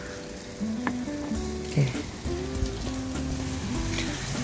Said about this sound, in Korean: 이렇게 빗소리 들리시죠?